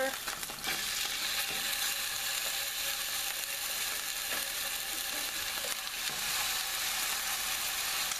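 Pork chops frying in a pan over fairly high heat give a loud, steady, close sizzle that runs throughout, with a few faint clicks and scrapes from handling the pan.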